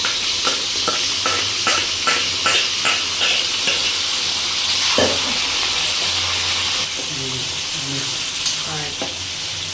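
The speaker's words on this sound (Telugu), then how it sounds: "ఇలా తాలింపు వేసేసుకోవాలి" Tempering for gongura chutney sizzling in hot oil, a steady crackling hiss close up with a series of sharp rhythmic taps of stirring early on, no voices.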